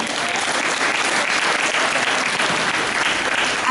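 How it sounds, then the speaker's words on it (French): Sustained, loud applause from an audience gathered in a church, a dense even wash of many hands clapping throughout, with faint crowd murmur mixed in. "est-ce qu'on peut l'applaudir s'il vous plaît?"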